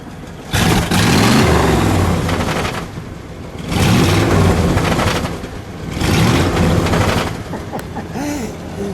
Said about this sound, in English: Let's give it a rev, shall we?